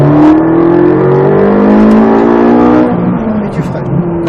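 Ferrari 458 Italia V8 revving hard on the Croix-en-Ternois race track, a loud sustained engine howl with rising harmonics from inside the car, easing off near the end as a coach's voice talks over it.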